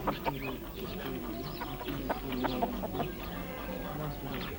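Household hens cluck and murmur while grazing on the flat roofs of a Turkish village near Eber Lake in Afyonkarahisar, a soft, busy cluster of calls under a faint voice.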